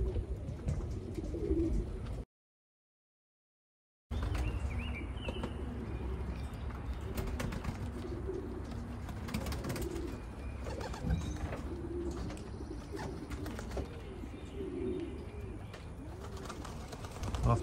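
Newly acquired racing pigeons keep up a steady chorus of overlapping low coos in their loft, with faint mechanical clatter and a brief dropout of total silence early on.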